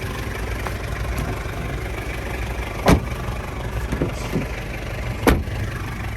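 A manual 2000 Isuzu Panther LGX diesel engine idling, a steady low rumble close by with a couple of sharp clicks or knocks standing out.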